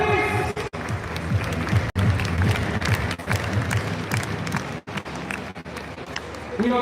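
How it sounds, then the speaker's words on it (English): Audience applause at a DXN leadership camp event in Dubai, a dense continuous clapping crowd at close range lasting several seconds, with brief breaks and mixed-in voices. "Big round of applause, please."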